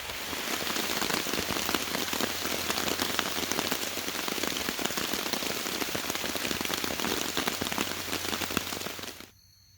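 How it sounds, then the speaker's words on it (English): Steady rain patters densely on a surface, a constant hiss with scattered drips, then stops abruptly near the end. "thank God it's finally raining"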